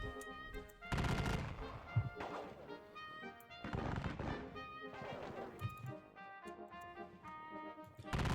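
Musket volleys crackle in a Gettysburg battle video game, a dense, fairly faint stream of overlapping gunshots and thuds with no clear pauses.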